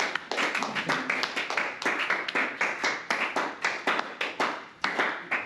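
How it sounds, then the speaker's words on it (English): A small audience claps in a slow, steady rhythm of distinct, even hand claps, close and moderately loud, continuing throughout with no talk over it. "Same amount of claps, just different pace."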